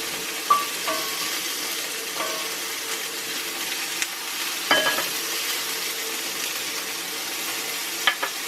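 Hot grease sizzling in a cast iron pan, stirred with a wooden spoon: a steady crackling hiss broken by occasional knocks and scrapes of the spoon against the iron, close up and with no talk.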